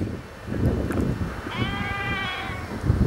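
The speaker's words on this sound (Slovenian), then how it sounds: "Tukaj ob jezercu slane vode se pašejo ovce." Sheep grazing beside a small saltwater pond near Copenhagen give a drawn-out wavering bleat over steady outdoor wind and ambient noise, heard at moderate distance.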